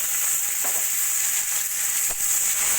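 Sliced onions frying in hot oil in a kadai, giving a steady close hiss with a couple of soft stirring scrapes and no voices.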